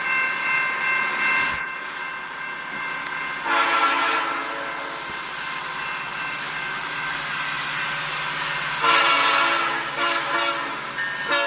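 A Grand Trunk heritage-unit locomotive passing a historic depot in the rain sounds its horn in several long blasts over the steady rumble and clatter of rail cars, fairly near and loud, with no talking.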